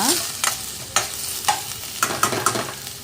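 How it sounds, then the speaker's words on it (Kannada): Finely chopped onions frying in a pan for a greens sambar, a steady close sizzle broken by repeated scraping stirs of a utensil against the pan. "ಎರಡು ಈರುಳ್ಳಿ ಸಣ್ಣ ಕಟ್ ಮಾಡ್ಕೊಂಡು ಇಟ್ಕೊಂಡಿರೋದು ಈ ಬ್ರೌನ್ ಕಲರ್ ಬರುವವರೆಗೂ ಬೇಯಕ್ಕೆ ಬಿಡೋಣ"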